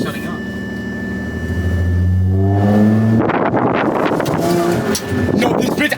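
A flooded-then-revived supercharged Audi A6 revs up with a raspy exhaust, the engine note climbing and then breaking into rough, crackling bursts, loud and close, with wind noise and voices over it.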